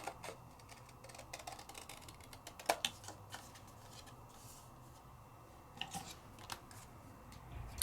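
Scissors snip through white paper coated with interference acrylic inks, a few sharp clicks and crisp cuts spaced out over quiet room tone, close and fairly soft.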